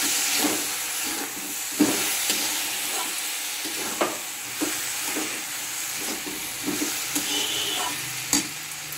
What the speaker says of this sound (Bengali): চলো এটাকে একটু ভালো করে ভাজা ভাজা করে নিই